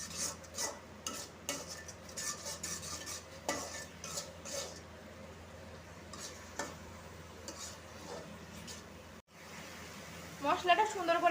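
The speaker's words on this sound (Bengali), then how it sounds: "এবার এগুলোকে, সব মশলাগুলোকে সুন্দর করে একসাথে কষায় নেব।" Turmeric, chili powder and salt stirred and fried together in a pan, a steady scraping of a spoon against the pan with light clinks and a soft sizzle underneath, moderately close.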